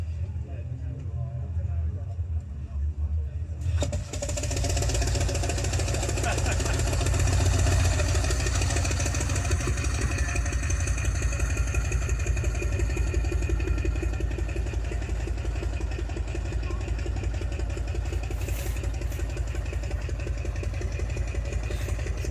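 A custom-built motorcycle engine cranks over in cold weather, catches after a few seconds and settles into a loud, steady, close idle with a rough low rumble that continues to the end.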